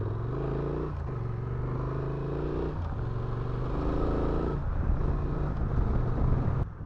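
A Honda Transalp 750 motorcycle rolls off the end of pavement onto gravel, its engine a steady low droning thrum with small throttle shifts and faint crunching underneath, close and continuous, no talking.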